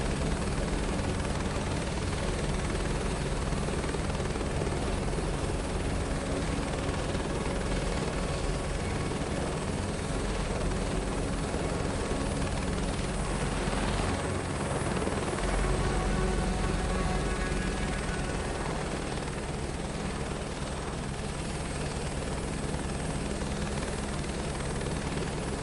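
Helicopter in the video game Microsoft Flight Simulator 2024 on PS5, with a steady loud rotor thump and engine whine droning without a break, as if heard from inside the cockpit.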